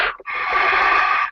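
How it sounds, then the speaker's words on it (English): A scuba diver entering the water at a grouper spawning aggregation draws one long, loud, hissing breath through a tank regulator, close to the microphone and heard alone. "You can hear me breathing off my tank now."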